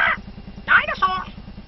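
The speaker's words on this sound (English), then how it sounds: "That's a cockatoo" A cockatoo calling, two or three harsh screeching squawks in quick succession over a steady low hum.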